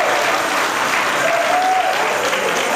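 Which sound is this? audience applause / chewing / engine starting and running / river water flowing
audience applause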